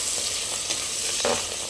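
Green chillies and curry leaves fry in oil in a pan while being stirred, a continuous close sizzle broken by a few scraping strokes of the spoon.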